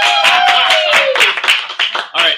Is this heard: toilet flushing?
no